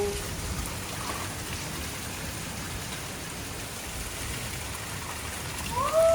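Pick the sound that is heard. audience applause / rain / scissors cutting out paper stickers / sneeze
rain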